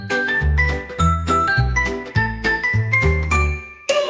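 Bright, chiming school-bell tones ring out as a repeating melodic pattern over a bouncy bass line in a children's song. The music is loud and there is no talking.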